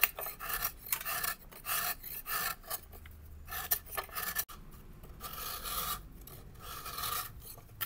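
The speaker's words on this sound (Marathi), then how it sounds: "तर मम्मी आता हा गुळ बारीक बारीक कापून घेतील" Knife chopping a block of jaggery finely for a mango dish, giving steady repeated rasping, scraping strokes at close range with short pauses and no talk.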